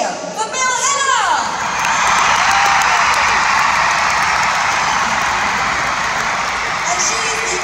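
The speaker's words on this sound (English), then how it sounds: "a very loud cheer for Bill Hiller!" Audience at a large children's choir concert cheering and applauding, a dense sustained roar of claps and shouts rising after a brief announcer's voice at the start.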